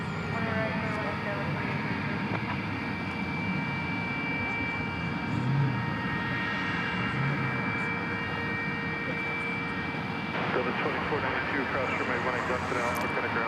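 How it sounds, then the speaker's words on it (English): MD-11 jet aircraft at DFW Airport, a sustained jet engine roar with whining tones that swells partway through, while a voice talks over it. "MD-11 in the foreground there."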